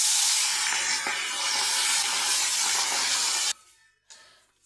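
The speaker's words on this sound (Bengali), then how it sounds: "কড়াতে তেল দিয়ে দিয়েছি। এখন আমি মাছগুলো ভেজে নেব।" Puti fish frying in hot oil in a wok, a loud, steady hiss of sizzling that cuts off sharply near the end, followed by a brief fainter burst.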